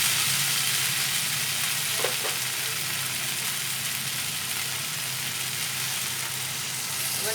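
Water hitting a pan of hot, sizzling fried spice paste for a Bengali rice-and-pointed-gourd dish, giving a loud, continuous hissing sizzle with a brief bubbling burst early on.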